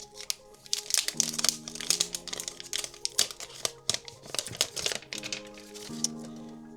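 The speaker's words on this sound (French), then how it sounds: "Et maintenant, on va déballer pour voir le design" Packaging crinkles and rustles up close as a Hotwav Hyper 8 Ultra rugged smartphone is unboxed, with a busy run of crackling plastic and paper and soft thumps over quiet music.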